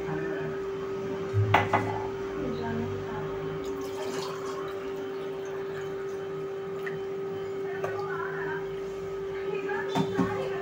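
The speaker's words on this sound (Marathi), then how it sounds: "तर आता मी आणखीन 1 ग्लास घेऊन तुम्हाला सर्व करून टाकते." Glasses and utensils clink and knock as watermelon sharbat made from a premix is poured and served, light clattering under steady background hum with a faint voice.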